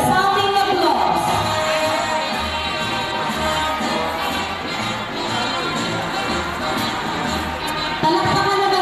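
Applause and crowd noise from a gathering greeting Boy Scout and Girl Scout candidates at a school investiture ceremony, a steady, dense wash of clapping and murmuring voices with occasional shouts, holding at an even level throughout.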